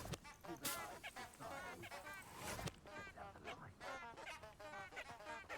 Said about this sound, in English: I love that those flowers sound like ducks.